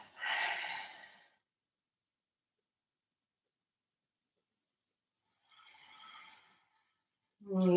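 Deep breathing during a yoga class: a slow, audible breath at the start and a softer one later, separated by silence, with a voice beginning to speak at the very end.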